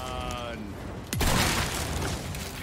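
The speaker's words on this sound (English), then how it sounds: "Wait for the explosion that's coming up right here." Explosion in Resident Evil 4 Remake: a sudden loud blast about a second in, followed by a rumbling, crackling decay that fills the rest of the moment over background game sounds.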